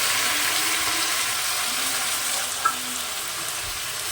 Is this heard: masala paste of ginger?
yes